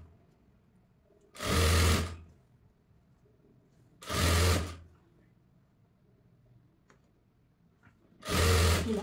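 A sewing machine stitches cloth for a frill frock in three separate short runs of steady whirring, each about a second long, with quiet pauses between them.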